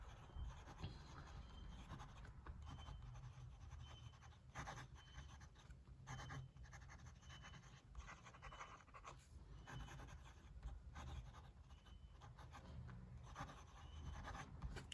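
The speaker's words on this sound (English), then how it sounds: "Let's just do this writing sample." A big metal x550 fountain pen with solid black ink writes on paper: a faint, steady scratchy scribble of strokes with short pauses, close up and quiet, with no talking.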